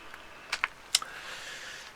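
A few separate key presses on a computer keyboard, a Windows key and S combination, heard as crisp clicks close by over a quiet room with no voices.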